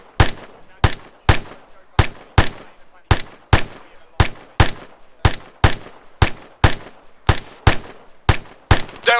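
Steady, evenly spaced gunshots ring out during military training, about two loud cracks per second across the whole stretch, each sharp report trailing a short echo, with no talking.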